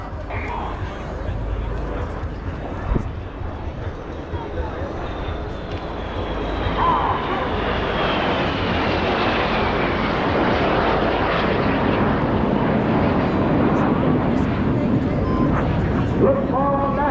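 Red Arrows jet display at the Bournemouth Air Show, engines roaring in a long swelling pass that grows louder and closer, with a voice commentating over it.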